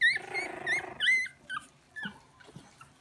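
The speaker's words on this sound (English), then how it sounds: "Nemo, are you howling? That's just like your daddy likes to howl" A 2.5-week-old puppy howls and whimpers up close in a rising, wavering whine, then gives a few shorter yips and squeaks, loud at first and fading into brief softer cries.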